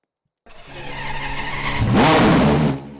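A car engine in the game Driving Empire cranks and fires up after a moment of silence, then revs loudly with a rising, tire-squeal-like whine before settling.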